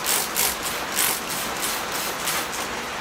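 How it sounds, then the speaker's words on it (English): Repeated quick sprays of soapy water from a pump bottle onto a maple bonsai, a steady rhythm of short hissing bursts, close by with no talking. "So I'll give that a spray with soap and water."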